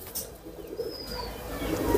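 A male pigeon being let go from the hand gives a brief, soft coo close by against quiet background noise.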